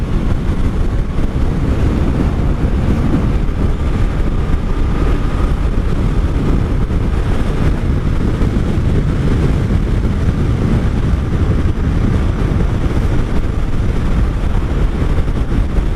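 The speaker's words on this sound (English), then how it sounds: "Wind is crazy." Strong, steady wind roar buffets the microphone throughout a ride on a 1984 Honda V65 Sabre VF1100S motorcycle, a dense low rumble with no letup and no talking.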